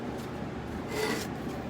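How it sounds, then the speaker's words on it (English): Coarse 60 grit sandpaper rubbed against a rusty axe head, a close, steady rasping scrape in back-and-forth strokes with no talking. "we're just going to go ahead and just start sanding."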